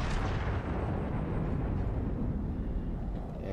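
The Nagato battleship's guns fire in World of Warships on the Strait map. A heavy, booming roar with deep rumbling rolls on steadily and loud throughout, with no break.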